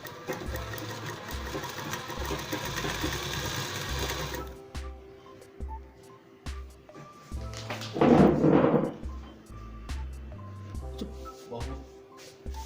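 A sewing machine stitches a midi dress in a steady, rhythmic run that stops partway through, followed by quieter handling thumps and rustling of fabric.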